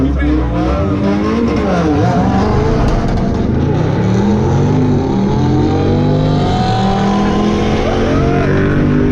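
A 2020 Dodge Charger Scat Pack accelerates hard down a drag strip, its loud engine roar rising through the gears, with possible tire squeal and excited voices talking over the noise.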